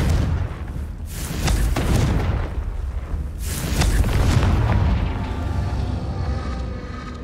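Repeated blasting-spell explosions in a video game, deep booming bursts with crackling debris rolling through a loud, continuous mix, several impacts swelling over about seven seconds with no talk.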